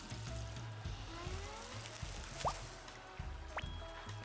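Watering a plant in the Hello Kitty Island Adventure video game gives soft dripping and splashing water effects over a looping game melody, with short rising chimes near the end.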